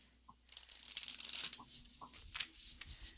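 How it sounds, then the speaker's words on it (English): Oracle cards being shuffled by hand, a soft papery riffling and shuffling that runs steadily for about three seconds at close range, with no talk over it. "Let me shuffle here."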